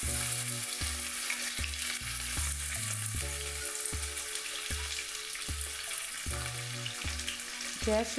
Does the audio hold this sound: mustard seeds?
yes